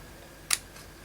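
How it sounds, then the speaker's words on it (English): A single quick, crisp snip from small scissors cutting slightly wet, gluey paper, close and brief, with quiet surroundings on either side. "I could just cut that with my little scissors again"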